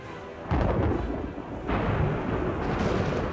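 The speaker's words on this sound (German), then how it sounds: "wurde die Armee von einem schrecklichen Sturm getroffen" A thunderstorm in the strategy game Age of Empires IV, heavy rumbling thunder rolling in two loud surges with a steady roar of rain-like noise between them, with no voices present.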